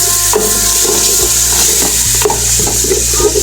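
Garlic tipped into onions already frying in a pan for chicken biryani, a steady close sizzle with scraping and stirring against the pan, with no one talking.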